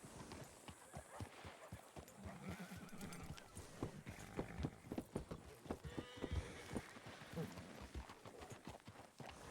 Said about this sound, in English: There's a lot of horses around.